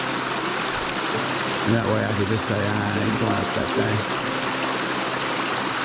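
Buckeye Falls, a stream pouring over a ledge as a tall waterfall, gives a loud, steady broadband rush throughout, with someone talking over it partway through.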